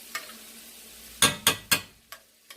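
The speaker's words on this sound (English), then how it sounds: "you got to keep stirring it because you don't want the garlic to burn" Garlic frying in a pan as it is stirred, with a faint sizzle underneath and several sharp scraping clicks of the utensil against the pan, three close together and two lighter ones after.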